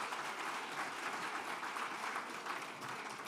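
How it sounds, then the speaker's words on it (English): Sustained applause from a conference audience honoring a panel at a jobs and workforce summit, a dense, steady clatter of many hands lasting throughout with no talk over it. "I think that panel deserves another round of applause."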